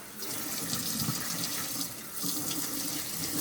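Water gushes steadily from a tap, a close, constant splashing rush with no pauses.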